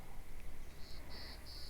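Flying insects buzz and whir faintly on a hot day, a steady hum with a few brief high whining passes, and no voices.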